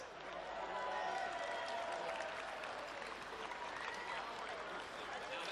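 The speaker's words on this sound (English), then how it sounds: "Please give a warm round of applause to Jessica Jensen, Jackson Davis, Carwyn Gregory and Matthew Bruce" A crowd applauds match officials at a women's football grand final medal ceremony, a broad, sustained wash of clapping with some cheering mixed in, heard from a moderate distance.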